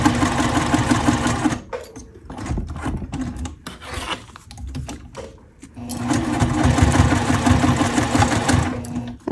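Sewing machine stitching the edges of a leather trifold wallet about an eighth inch from the raw edge, running in steady bursts with a pause in the middle filled by handling noises, then resuming loud and close.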